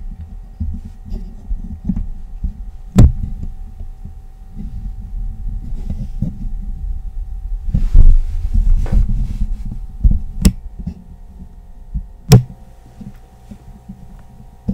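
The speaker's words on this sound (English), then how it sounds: "My fridge just turned on. It's kind of loud." A household refrigerator running loudly, a steady low hum and throb with a constant tonal drone, punctuated by a few sharp clicks and knocks, close and with no speech.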